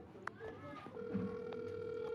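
A telephone ringback tone sounds on an outgoing call, a steady electronic tone lasting through the back half, with faint talk and background noise around it.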